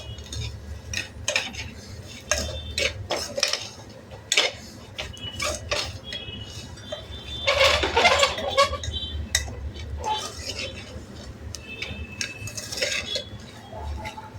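A spoon or spatula clinks and scrapes against a pot while sautéing in oil for a traditional one-pot meal with dal. Irregular taps and stirring grow busier midway, with a faint low hum beneath.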